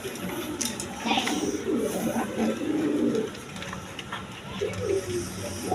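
Pigeons coo and flutter at a pigeon shop, soft repeated coos close by amid a busy, noisy background with scattered clatter.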